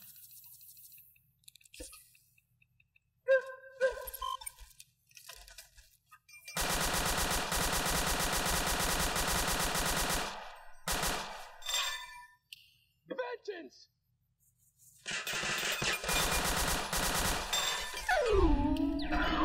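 Dense, sustained automatic gunfire in the modded video game Fallout rips through two long stretches, with scattered shots, metallic dings and a voice talking in the quieter moments between.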